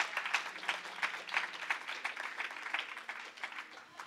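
A youth church congregation gives a round of applause, fairly faint rhythmic clapping with distinct repeated hand strikes, steady throughout with a low sustained tone underneath.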